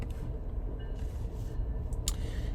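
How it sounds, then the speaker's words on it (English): A train passes at a distance outside, heard as a faint, steady low rumble with a soft rattling hiss that runs through the whole moment without pause. "I apologize for the train in the background"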